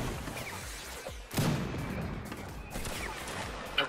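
Gunfire and cannon blasts in a Mount & Blade multiplayer siege battle, a few loud booming shots over a busy, rumbling battlefield din with faint voices.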